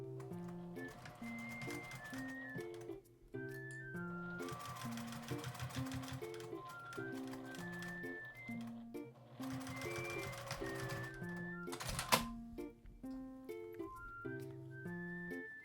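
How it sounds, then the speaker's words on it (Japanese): A sewing machine runs topstitching on the right side of scrap fabric for a small keychain pouch, its needle chattering in steady bursts that pause and restart, under light background music with no talk. "表からもミシンをかけます。"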